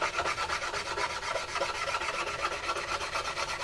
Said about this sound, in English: I'm just going to get a small sanding block, 220 grit sandpaper on it, and just sand those off